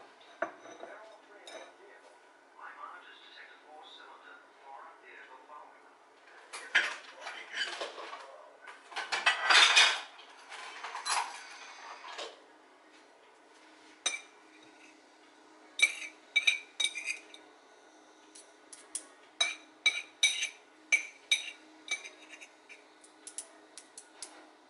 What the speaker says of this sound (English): I am simply going to squeeze the ginger juice into my strainer and press the juice from the ginger into the pot.